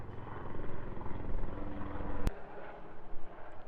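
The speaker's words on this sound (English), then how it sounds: "We always get these sick helicopters flying over." A military helicopter passes overhead near a military base, a steady rotor-and-engine rumble at moderate distance that swells and fades slightly throughout, with a brief sharp click partway through.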